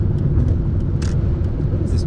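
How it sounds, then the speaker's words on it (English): Steady low road rumble of a truck and traffic heard from inside a moving vehicle, a constant deep drone with faint clicks on top, close and moderately loud. "What is this truck doing?"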